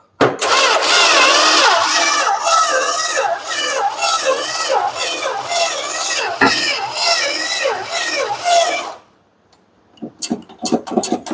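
Dodge Aspen engine cranking over repeatedly without catching, a loud, steady rhythmic churn lasting about nine seconds before it cuts off, followed by a few short clunks and sounds.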